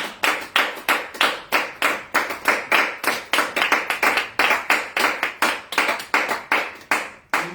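A church congregation claps in a steady rhythmic beat, roughly three claps per second, loud and close, without talk, as in a Congolese worship service.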